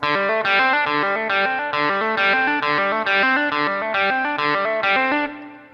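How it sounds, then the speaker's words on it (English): A distorted electric guitar plays a fast, flowing legato intro riff in hammered-on notes in a steady repeating pattern, ending on a ringing chord that fades out. "this is a great example of legato hammer-on technique"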